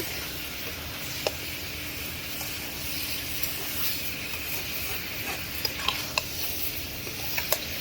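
Pangas fish curry with cauliflower and tomato sautés in a pan, giving a soft continuous sizzle and hiss, with a few light spatula taps and scrapes scattered through it.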